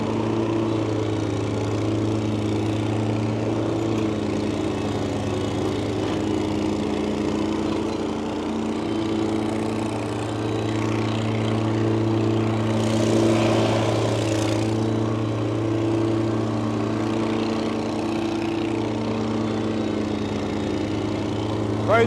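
A lawn mower engine mows grass with a steady, close, droning hum that runs the whole time, swelling slightly for a moment near the middle, with no speech over it.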